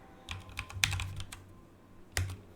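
Computer keyboard typing a command at a command prompt, a quick run of close clicks with brief pauses and a final pair of heavier key strikes, no talking.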